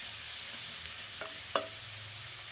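Coriander and mint frying in oil for biryani: a quiet, steady sizzle with a few sharp utensil clicks against the pan while the leaves are stirred.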